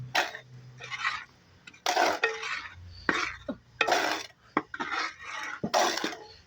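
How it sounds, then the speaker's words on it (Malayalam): A spice powder mix for mavunda is stirred in a metal vessel, a run of repeated scraping and clinking strokes in uneven bursts, close and fairly loud, with no talk. "ഇങ്ങനെ ഇളക്കി കൊടുക്കണം."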